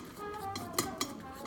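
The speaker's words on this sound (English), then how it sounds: "add some air while I'm whisking the cheese" Melted Alpine cheese fondue whisked in a pot, quiet scraping with a couple of sharp metallic clinks against the pot over a faint background hum.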